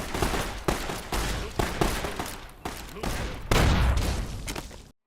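Anti-patrol rifle firing in Helldivers 2 against bugs, a rapid run of loud, sharp shots in bursts amid game combat noise, with a voice talking at times.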